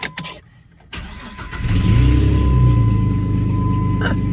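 A car with a temporarily repaired muffler cranks briefly and then catches. It settles into a loud, steady idle with a deep exhaust rumble, heard up close.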